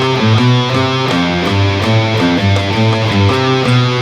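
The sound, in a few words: guitar riff, major second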